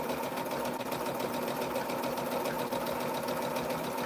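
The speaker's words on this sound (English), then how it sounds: "Can't hear it over the sewing machine anyway." A sewing machine runs continuously at a quilting table, a dense, even mechanical whir with a rapid stitching rhythm throughout and no talking over it.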